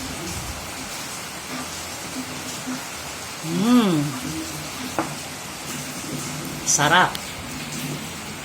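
Rain falls outside as a steady, even hiss throughout, while a person speaks briefly over it with a couple of short voiced sounds.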